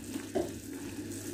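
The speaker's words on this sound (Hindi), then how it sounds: "और 2 से 3 मिनट के लिए हम इसको इसी तरह से पकने देंगे गुलाब जामुन को चाशनी में" Gulab jamun simmering in sugar syrup on a stove gives a soft, steady low bubbling with one brief louder splash-like burst, close by and without voices.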